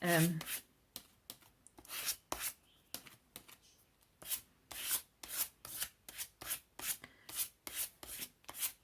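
A paper envelope being distressed for a vintage look is rubbed with rhythmic, close, rasping strokes, roughly two per second, after a brief voice at the start.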